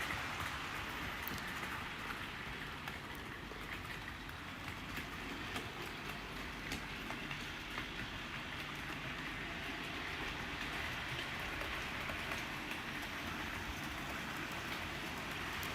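A model prairie tank locomotive runs on a layout, making a continuous quiet rumble with faint rail clicks and a rain-like hiss, steady throughout without speech.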